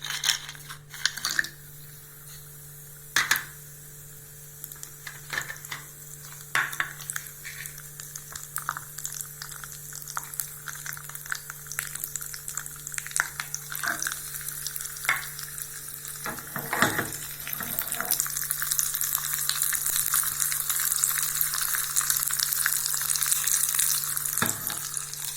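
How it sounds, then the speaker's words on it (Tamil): Cashews and raisins frying in ghee in a home kitchen pan, a soft continuous sizzle that swells louder toward the end, punctuated by sharp clinks and taps of a utensil against the pan. "முந்திரி பருப்பு திராட்சையை வறுத்து வச்சிடலாம்"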